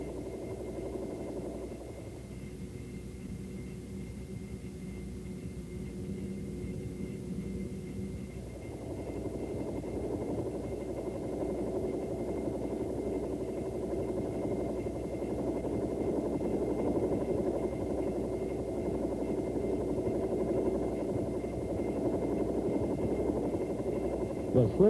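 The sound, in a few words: Bell AH-1 Huey helicopter in flight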